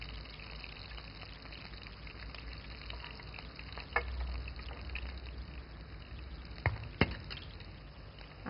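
Spice paste sizzling in oil left from frying koi fish, a steady close frying hiss broken by a few sharp stirring clicks and scrapes near the end, with no one talking.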